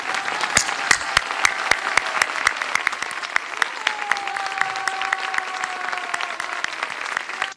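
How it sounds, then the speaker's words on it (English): Standing applause from an audience at a conference on women and change in Iran: a crowd of hands claps steadily for several seconds, moderately loud, with sharp individual claps standing out and faint voices underneath. "let us stand up and applaud them for 1 minute"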